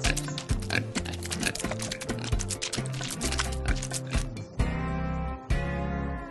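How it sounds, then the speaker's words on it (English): A little pig grunts and oinks repeatedly in mud, giving quick rhythmic snorts close up, with a few longer squealing grunts toward the end. "There it is, the little pig."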